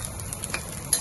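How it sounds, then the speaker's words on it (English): Salted vegetables dry-fry in a pan over medium heat without oil, a faint, close hiss with light stirring scrapes and a couple of small clicks near the end. "Fry until they dry up and have some slight burn."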